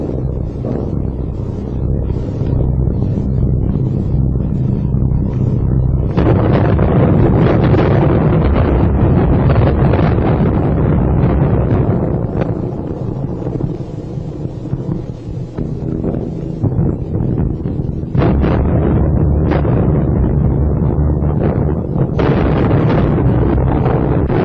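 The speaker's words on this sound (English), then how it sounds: "That was a bomb." Bombs burst during the London Blitz as a loud, rumbling, continuous roar of heavy blasts and wind-like noise, with thick low booms swelling and easing across the whole stretch.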